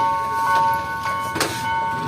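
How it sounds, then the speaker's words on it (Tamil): A train approaches a station on the way to Matale, Sri Lanka: steady ringing bell-like tones over a rumble, with louder bursts of rolling noise, fairly near and with no talk. "ட்ரெயின் வரப்போகுது வந்தால் பாருங்கள்"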